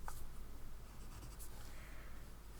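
A pen drawing eyelashes on a fabric doll face, a soft, close scratching of the tip on cloth in short strokes over a steady background hiss.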